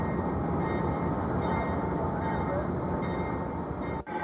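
A diesel Amtrak Genesis locomotive pulls out of a roundhouse, a steady loud rumble and hum running throughout with faint tonal squeals above, ending in a sharp clank near the finish.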